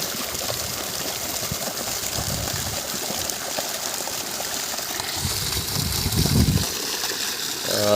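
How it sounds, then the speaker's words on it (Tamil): Water gushes out under pressure from a 200W BLDC motor pump, a loud, continuous rushing spray with a brief heavier splash near the end. "தண்ணி ஃபோர்ஸாக மேலே கொண்டு வந்து பார்த்தீங்கன்னா தெரியும் நல்ல ப்ரெஷரு நல்லா அருமையாக வந்துக்கிட்டு இருக்குது தண்ணி"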